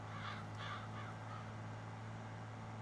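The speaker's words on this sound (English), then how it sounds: "The bird sounds effects just sound even better." Crow caws from the bird ambience of the Farming Simulator 22 video game, a few hoarse calls in a short burst near the start over a steady low hum, then fading out.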